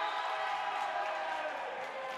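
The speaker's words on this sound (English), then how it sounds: "Crowd reaction tells it all." A volleyball match crowd reacts in a steady, dense wash of cheering and noise that holds at the same level throughout, with no single voice standing out.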